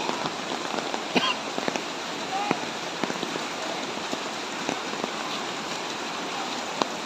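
Steady rain patters on surfaces at Taytay Falls in Majayjay, Laguna, a dense, even hiss with scattered sharper drops close by and no voices.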